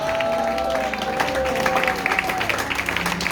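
A congregation at a Pentecost church service cheers and applauds in praise, a broad wash of clapping and crowd voices blended with music.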